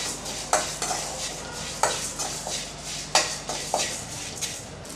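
Lentils, sesame seeds and curry leaves are being sautéed in a pan, with a spoon scraping and stirring in a few sharp strokes over a faint, steady sizzle, close up and with no voices.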